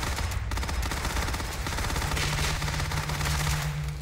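Gunfire in Starfield: rapid, sustained automatic bursts rattle loudly and continuously, a dense barrage with a low droning hum underneath.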